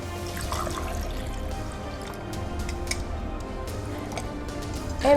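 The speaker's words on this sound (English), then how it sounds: "We're going to pour in some of our lemonade." Lemonade trickles and drips into a cocktail shaker holding ice, a soft close-up splashing with faint ticking drips, steady and fairly quiet, ending in a brief louder knock.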